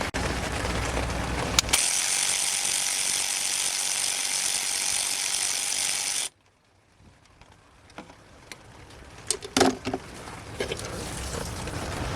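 A ratchet wrench works on a 12 mm alternator bolt on a 2004 Nissan Murano, giving a loud sustained ratcheting buzz up close for several seconds, then stopping into quiet with a few faint clicks and handling knocks.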